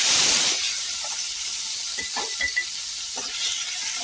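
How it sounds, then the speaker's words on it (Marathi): Carrots and peas stir-fry in oil in a wok, opening with a loud burst of hissing steam that settles into a steady sizzle with light spatula scrapes and taps. "मी गाजर आणि वटाणे परतून घेते"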